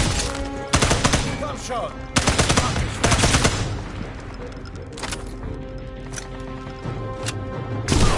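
SMG gunfire in a PS4 video game, loud rapid bursts of automatic shots in several clusters with short pauses between them, a brief spoken voice in between.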